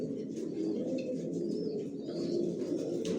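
Johnson line racer pigeon chicks coo in low, continuous throaty murmurs close by, with a few faint higher chirps scattered above.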